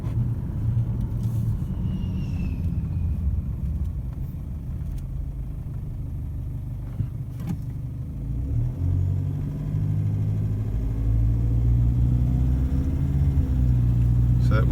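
A car engine runs while driving, just after its injectors were replaced, giving a steady low rumble that swells and eases with the throttle. The sound is close and moderately loud, and some talk is mixed in.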